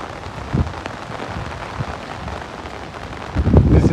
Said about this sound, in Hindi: बारिश इतनी ज़्यादा आ चुकी है कि हमारे कपड़े भी गीले हो गए हैं